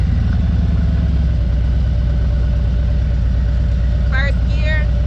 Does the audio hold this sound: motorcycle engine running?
yes